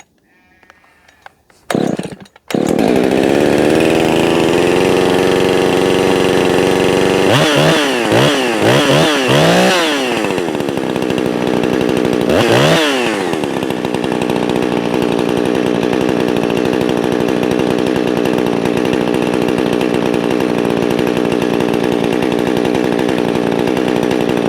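A ported Husqvarna 359 chainsaw with advanced timing and a muffler mod, started with a pull, then roaring loud and close, revving up and down several times before settling into a steady high scream.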